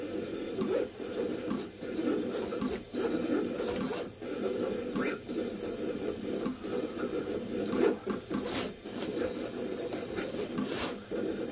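A Vevor 28-inch commercial vinyl cutter runs at maximum speed, making a busy mechanical rasping and whirring with repeated short sweeps and pauses as the carriage moves back and forth, close and steady throughout.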